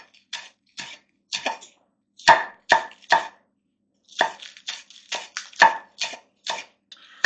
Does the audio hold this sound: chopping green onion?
yes